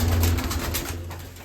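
A female pigeon coos nearby in low, soft rolling notes, with no talking.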